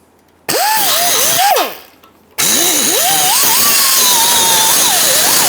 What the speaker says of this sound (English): use a tool to go ahead and grind this down a little bit to weaken that metal